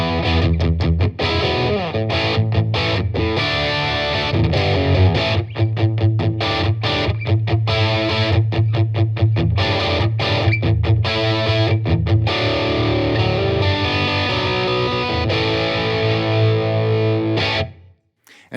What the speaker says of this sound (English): now we have your 80s British crunch in British Crunch 2